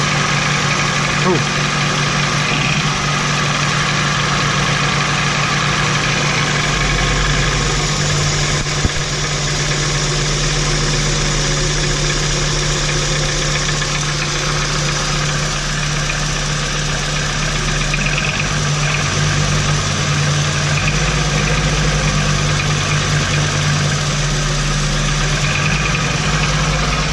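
Continuous loud running of a Volkswagen T4 2.5 AAF five-cylinder engine, a steady rumbling drone with slight shifts in load, heard close and alone without talk.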